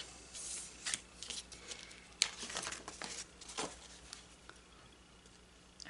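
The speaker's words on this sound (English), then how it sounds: "I'm going to go ahead and trim off the excess napkin." Scissors snip through a thin paper napkin in a series of short, quiet cuts with soft crinkling between them, close by.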